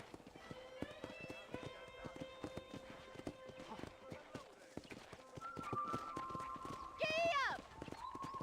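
Horse hooves clip-clop in a quick, steady running rhythm while riding in the Red Dead Redemption video game, soft and continuous under a speaking voice and game music, with a short whinny near the end.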